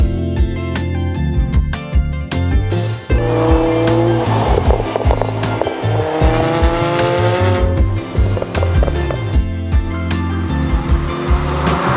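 Ferrari F40 supercar driving hard, engine roaring through rapid gear changes with loud tire squeals and skids, close and intense throughout.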